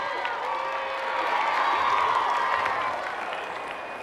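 Stadium crowd roaring and cheering after a try in the Rugby League 26 video game, a loud sustained wash of voices that swells in the middle and eases slightly toward the end.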